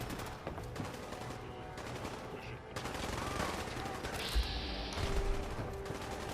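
Gunfire in the video game Fallout 4, bursts of automatic and single shots rattling through a building, steady and fairly close, with a voice speaking over parts of it.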